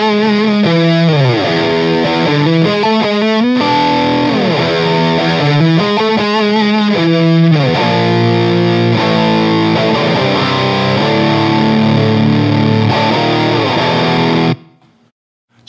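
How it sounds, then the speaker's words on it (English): An electric guitar runs through a Providence Stampede DT pedal with the gain turned high, playing loud riffs and sustained chords in a thick, fuzz-like distortion that rings out before stopping abruptly. "the pedal almost turns into a fuzz to me"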